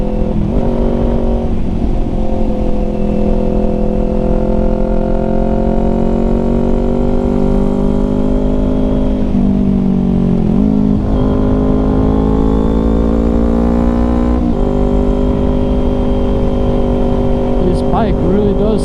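Kawasaki Ninja 400 motorcycle fitted with a GSXR 600 rear shock has its engine running loudly and close, a steady droning rumble with slight pitch shifts, while wind buffeting and a voice talking sit over it.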